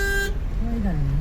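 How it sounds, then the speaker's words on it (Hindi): A car horn honks from behind in traffic, a brief steady tone that cuts off abruptly, followed by close talk over road noise. "पीछे मार रहा हॉर्न आके।"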